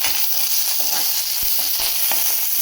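Green chili and garlic fry in hot oil, a continuous bright sizzle with occasional soft stirring knocks and pops, close and alone without talk.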